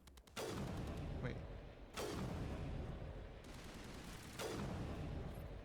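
Gunshots in the sci-fi shooter game Mass Effect, three sharp blasts roughly two seconds apart, each trailing into a rumbling decay over a dense, continuous game soundscape.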